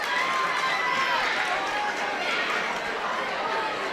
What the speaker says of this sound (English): And the Castledermot crowd rise to their feet here.